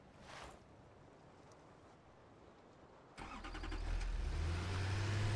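Vehicle engine starting in a video game: a quiet background hum, then a sudden crank that catches into a steady, rising motor rumble close by.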